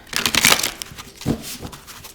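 Tarot cards being shuffled by hand, a few soft papery riffles and slides in quick bursts with a short pause between, close and fairly quiet.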